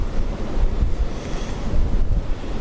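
Strong gusty wind buffets the microphone at an airport, a loud low roaring rumble that swells and eases in uneven waves, with no voices.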